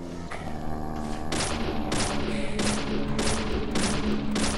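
Shotgun blasts from the video game Deadly Premonition ring out in a rapid series of about six loud booms, spaced roughly half a second apart over a steady droning game soundtrack.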